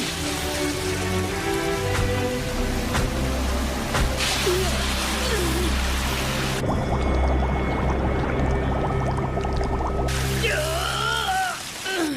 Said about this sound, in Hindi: पानी अंदर आ रहा है।